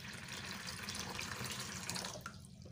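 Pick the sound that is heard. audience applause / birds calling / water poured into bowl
water poured into bowl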